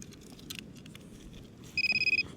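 A metal detector sweeping over buried metal gives a run of short, rapid electronic beeps near the end, sounding over faint outdoor background noise.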